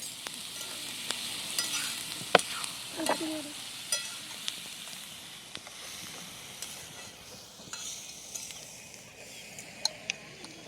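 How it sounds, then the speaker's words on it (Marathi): Onion frying in a pan for a Maharashtrian usal, a steady soft sizzle with scattered clinks and scrapes of a spoon stirring, close and alone. "कांदा आता चांगला लाल भाजून घेणार"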